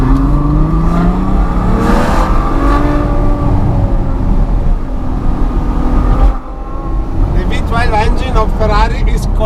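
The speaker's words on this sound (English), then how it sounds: "Engine of Ferrari is called the infinite engine." A Ferrari GTC4 Lusso's V12 engine and exhaust roar loudly while accelerating from inside the car, the pitch climbing through the gears, with a voice talking near the end.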